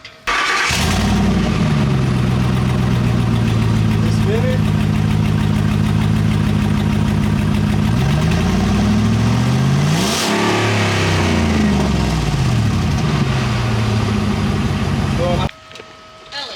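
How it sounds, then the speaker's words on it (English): Ford F-150 truck with a turbo fitted in the bed, its engine held high and loud for a long stretch, pitch sweeping up and down through several quick revs before cutting off near the end. "we're going to try to get some quick revs just to kind of see what it sounds like with the turbo"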